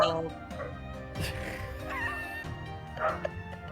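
Dog bark and whimper, indoors during a tabletop role-playing game session, heard briefly under ongoing conversation.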